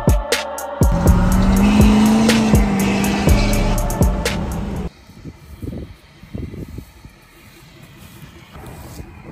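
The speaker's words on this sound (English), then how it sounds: "Hopefully it'll spin the tires." A tuned 2019 Cummins 6.7 diesel truck spins its tires, with a loud rising engine drone, squealing rubber and sharp knocks, then an abrupt drop to quieter scattered noises.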